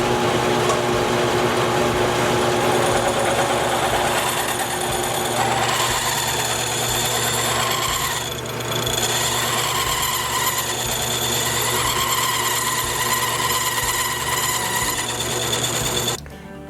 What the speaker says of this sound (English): I've got the pipe set up in the lathe. I've got a bit ready to cut it.